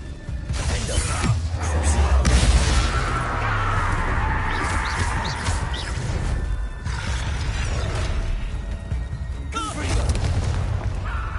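A fiery Incendiary spell is cast in Hogwarts Legacy combat, with whooshing bursts, booming impacts and crackling blasts layered over game effects and brief character voices throughout.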